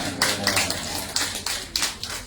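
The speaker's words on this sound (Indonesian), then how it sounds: "Jangan ragu-ragu tepuk tangan" A few scattered claps from an audience at an Islamic istighasah gathering at a Nahdlatul Ulama branch in Indonesia, sparse and uneven, with a quiet low hum beneath.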